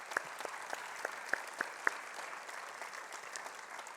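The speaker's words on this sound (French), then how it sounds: "Vous pouvez vous applaudir." Graduates and their families clap together at a formal oath-taking ceremony, a steady crowd applause with a few sharper nearby claps standing out, moderately loud throughout.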